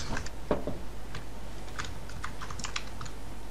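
Computer keyboard typing with scattered mouse clicks, close up and steady, a run of sharp keystrokes in uneven bursts over a low constant hum.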